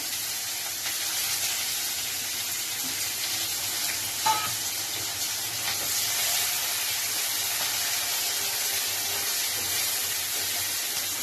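Chopped onions fry in a pan with cloves, whole cardamom and cinnamon, a steady, even sizzling hiss that runs throughout, fairly close, with one faint clink partway through.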